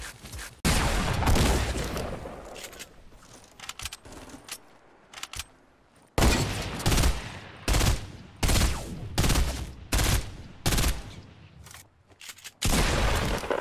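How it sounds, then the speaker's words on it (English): Rapid bursts of hunting rifle and other gunfire in the video game Fortnite, loud sharp shots repeating in clusters with brief pauses between them. "I headshot both of them with the hunting rifle."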